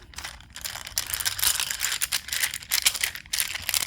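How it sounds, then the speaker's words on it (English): Paper cards or sheets being shuffled by hand, a close, dry crinkling and rustling that keeps going in quick uneven bursts for a few seconds, with no talking. "I'm going to shuffle them first"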